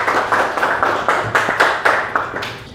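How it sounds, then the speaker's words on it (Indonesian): Students in a sociology classroom clapping in unison, a loud, close, rhythmic series of about ten sharp claps at a steady pace with no talk. "beri tepuk tangan dulu anak-anak semuanya"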